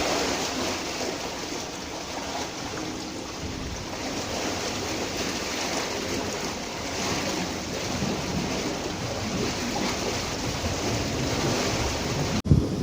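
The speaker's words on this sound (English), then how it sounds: "there's a powerful inrush of water" Water rushes into a canal lock through an opened paddle: a steady, powerful rush of churning water, a continuous broadband roar with no pauses, close and loud throughout.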